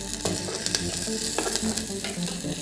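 Chicken sizzles and crackles steadily in a hot electric kettle while a utensil scrapes and stirs through it in irregular strokes, close by.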